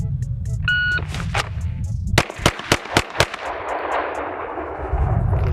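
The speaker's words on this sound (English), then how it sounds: "So now we'll go from the draw, maybe dump 5 rounds and see if I can do it" Five quick pistol shots fired from the draw with a red dot sight on a shooting range, sharp loud cracks at roughly quarter-second splits, preceded by a brief electronic beep and followed by ringing outdoor ambience.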